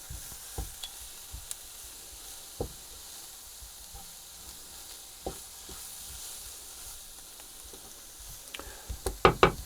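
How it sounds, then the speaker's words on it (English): Flour being stirred into a sizzling sausage casserole in a pan, heard as a soft, steady frying hiss with scattered scraping knocks of the spoon that grow busier toward the end. "Stirring round until all the flour's absorbed."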